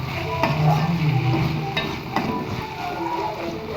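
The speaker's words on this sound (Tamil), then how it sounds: "தக்காளி நல்லா வதங்கட்டும்" Tomatoes and onions with salt sauté in a pan for a chicken gravy, a close, continuous sizzle with occasional stirring scrapes.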